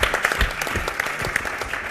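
Audience applause at a hepatitis C forum, a dense steady patter of many hands clapping with sharp individual claps popping out, moderately loud and continuous without pauses.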